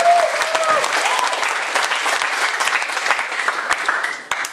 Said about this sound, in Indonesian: Aplaus sekali lagi.